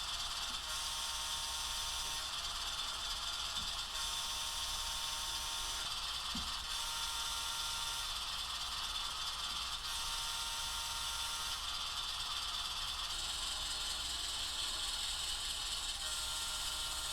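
Sound decoder in a Rapido 44 Tonner model locomotive plays its prime mover startup sequence, a continuous droning engine hum at even volume with faint mechanical clicks.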